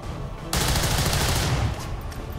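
A single weapon shot fired in the video game XCOM 2: a sudden loud burst that sustains for about a second with a dense, noisy tail, then drops to quieter background, with no talking.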